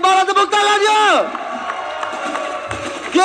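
An esports audience at an Aura Fire versus EVOS Legends match claps and cheers beneath a loud, excited commentator's voice, mixed with sweeping tonal game sounds.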